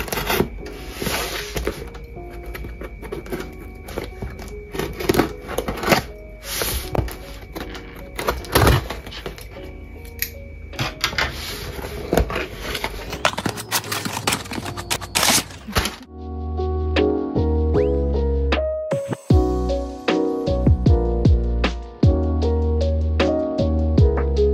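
A packaging box of cosmetic ingredients opened by hand, with rustling and rubbing of cardboard and wrapping, scattered taps and scrapes, then a denser stretch of crinkling and handling, close and moderately loud with no talking.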